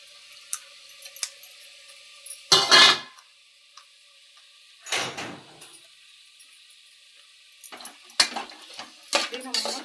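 A spoon scrapes and clanks against a cooking pot while tomatoes, carrots and beans are stirred for veg biryani, several sharp metallic bursts separated by quiet gaps, close and clear.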